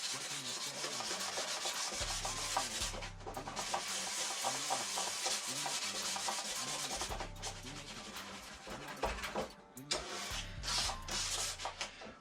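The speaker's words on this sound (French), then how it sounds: "Là, je la mouille parce que je vais reponcer un petit coup." Hand wet-sanding of a vinyl turntable plinth, a close continuous rasping rub in long back-and-forth strokes with brief pauses, alone without talk.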